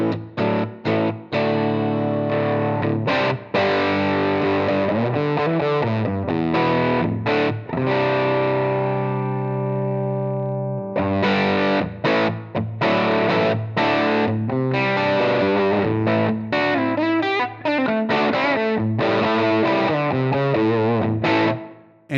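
Distorted electric guitar through a Helix US Small Tweed amp model and 4x10 US Super cab at default settings, loud strummed chords and riffs with a long sustained chord midway, then choppy rhythmic playing, with no talking.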